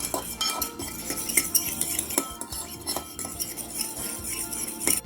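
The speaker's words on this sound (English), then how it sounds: "Stir it up." A spoon stirs a hoisin glaze with brown sugar in a container, giving irregular metallic clinks and scrapes against the sides, close up and fairly quiet, with no talking.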